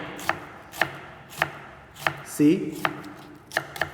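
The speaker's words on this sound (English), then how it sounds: "Hold the onion again like this. Now chop it." A kitchen knife chops an onion on a cutting board in sharp, evenly spaced strikes, about seven clear knocks over four seconds, close and fairly loud, with one brief scrape midway.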